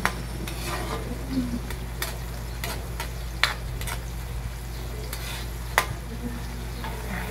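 Tiny sinarapan fish sauté with tomatoes in a pan, giving a steady close sizzle broken by sharp clacks of a utensil stirring and scraping at irregular intervals.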